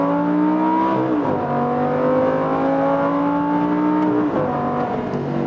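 A supercar's engine roars loud and close under hard acceleration, its pitch climbing steadily, then dropping with a short jolt as it shifts into second gear before climbing again, with no talking.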